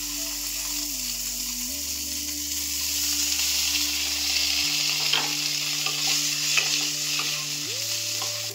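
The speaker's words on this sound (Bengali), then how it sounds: "এরপর পনিরগুলোও ভেজে নেব" Pieces of paneer crackle and sizzle steadily in a hot pan, with occasional sharp pops and light stirring scrapes up close, while soft music plays underneath.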